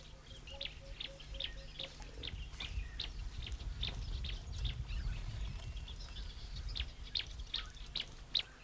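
Many birds call across an open meadow beside acacia woodland at Lake Manyara, with short, bright chirps and tweets repeating rapidly at moderate distance over a low, steady outdoor rumble.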